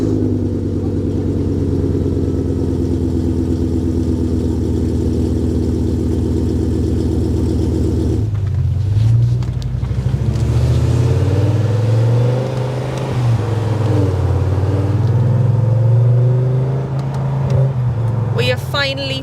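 A BMW M5 engine running close by, a deep steady idle that shifts to a rougher, rising rumble partway through, with voices talking over it.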